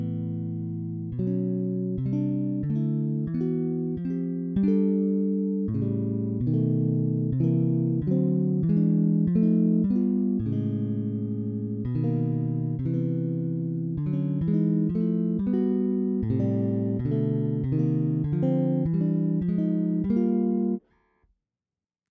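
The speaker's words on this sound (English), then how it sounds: "since it's a sample of a strum, it sounds natural" Sampled bass guitar chord strums from the Ample Bass TR6 virtual instrument, a long run of clear, evenly spaced chords climbing through the register, close and alone, ending abruptly.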